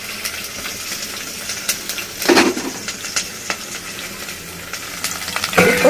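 Onions frying in a pan for a brinjal tamarind curry, with a spoon stirring and scraping against the metal in irregular strokes over a steady sizzle, close up, louder bursts near the middle and end.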